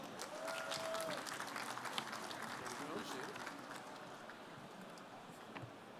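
Applause from an audience at a college pitch competition finale greets a speaker coming on stage, fairly faint and distant, fading slowly toward the end.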